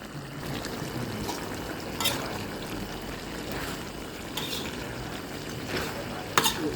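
Chicken being stir-fried with sugar for a Thai dish, a steady soft sizzle with scraping stirs, a few sharper clacks of the utensil against the pan, no talking.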